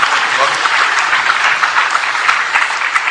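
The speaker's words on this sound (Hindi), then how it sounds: "जोरदार तालियां बजाइए" An audience at a Bait Bazi 2025 results and certificate ceremony in Aurangabad, India, breaks into loud, sustained clapping, a close, dense patter of many hands lasting a few seconds.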